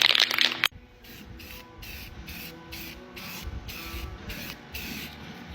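White paint sprays from an aerosol can in a rhythmic series of short hissing bursts after a louder opening rattle, close and steady.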